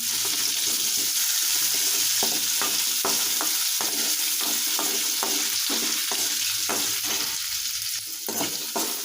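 Chopped onions frying with garlic in a pan over medium flame give a steady loud sizzle, with repeated stirring scrapes breaking through at an irregular rhythm and no talk.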